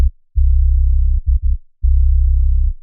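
A keyboard synth with only its low end left, giving deep, booming bass notes alone: one long sustained tone, two short stabs, a pause, then another long held note, all loud and close.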